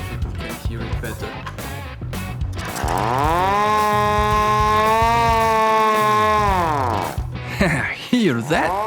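A 3D-printed hand-cranked mechanical alarm siren winds up into a loud, steady wailing tone, holds it for several seconds, then spins down, with speech and handling noise before and after.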